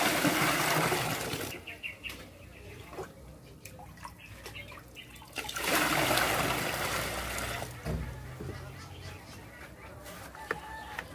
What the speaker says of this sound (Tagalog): Babawasan ko siya ng tubig, tapos magdadagdag tayo ng bagong tubig